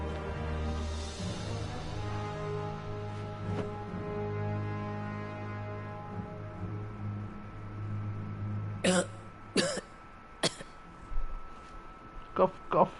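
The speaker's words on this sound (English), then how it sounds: "Cough, cough." Several short, sharp coughs in quick bursts from a video game character follow a long stretch of sustained droning tones, the coughs clear and fairly close.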